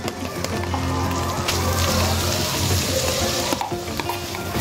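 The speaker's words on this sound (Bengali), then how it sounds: "বাটা সন্দেশটা ঘিয়ের সাথে আর কি মেল্ট করে নেব।" Sandesh paste melting into warm ghee in a wok crackles and sizzles steadily throughout, with occasional faint scraping of a utensil.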